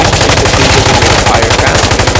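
M249 SAW light machine gun in Insurgency Sandstorm firing 5.56 rounds in one sustained, rapid automatic burst, loud and close with a fast, even rhythm from start to finish.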